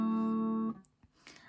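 An acoustic guitar rings a single C-add-9 shape chord, sustained and clear for under a second before being damped, followed by faint string and finger noise.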